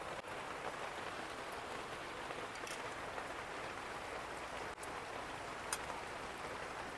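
Steady rain falls outside, a faint, even patter with occasional louder drops and no voices.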